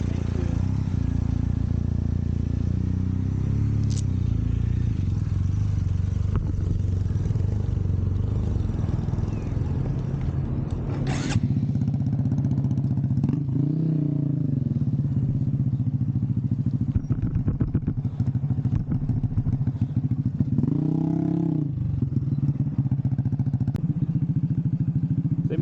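A small Grom motorcycle with a loud exhaust idles nearby in a steady low rumble through the whole stretch, with occasional thumps and brief rises in the engine note.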